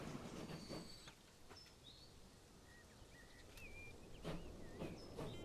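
A train rolling along the track in the video game Transport Fever 2, a soft steady rumble with faint wheel clatter and chirping birdsong over the top, no voices.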